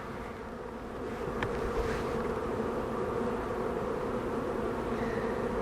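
A huge honey bee swarm escaping from a hive buzzes as a dense, steady drone that swells slightly after the first second and holds, close and continuous with no voices.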